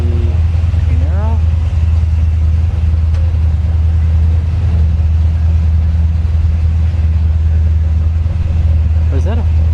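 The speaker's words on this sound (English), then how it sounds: "Supra up against the Camaro." A Toyota Supra and a Camaro line up for a drag race at Orlando Speed World, with a steady, heavy low engine rumble throughout and faint crowd or voice sounds layered above.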